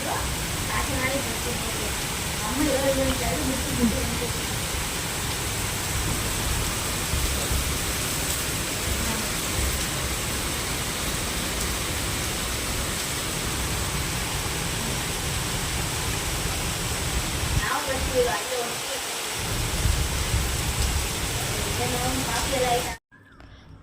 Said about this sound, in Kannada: ಜೋರು ಮಳೆ ಅಂದರೆ ಜೋರು ಮಳೆ ತುಂಬ ಜೋರು ಬೀಳ್ತಾ ಇದೆ